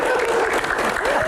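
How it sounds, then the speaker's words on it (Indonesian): Audience applause during an Islamic preaching Q&A session, a dense wash of clapping lasting about a second with a voice talking over it. "Baik, tepuk tangan."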